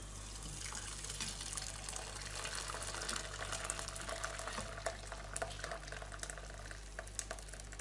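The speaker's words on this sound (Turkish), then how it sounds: "Kaşık yardımıyla karıştırarak çorbamızı aynen bu şekilde süzüyoruz." Lentil soup is pushed through a sieve and stirred with a spoon, a faint, continuous wet sloshing with light scraping taps, steady throughout and without talk.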